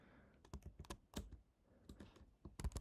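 Someone types on a computer keyboard, giving quiet, close, irregular key clicks in short bursts with brief pauses between.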